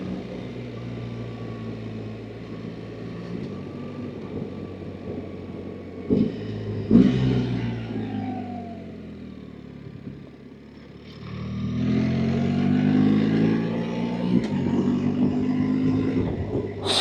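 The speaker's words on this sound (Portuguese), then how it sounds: "Quando você reduz, sozinha ela dá aquela chamada de giro" A BMW R 1300 GSA with automatic transmission rumbles along as its boxer engine blips revs on downshifts, with rising and falling engine tones and steady road noise throughout.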